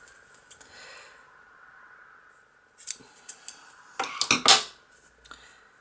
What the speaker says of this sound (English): Now we can fasten off, cut the yarn